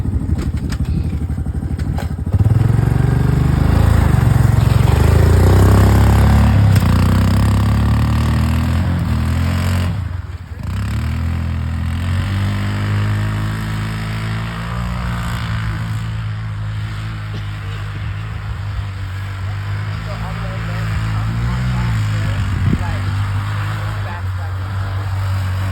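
A 1995 Honda FourTrax 200 ATV engine runs in the snow with a steady, close, buzzy drone that dips briefly midway and then carries on at an even pitch.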